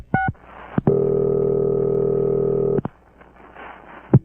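Telephone dialing tones: a few short beeps, then a long steady tone lasting about two seconds, followed by clicks and a brief final beep, close and clear with no talking.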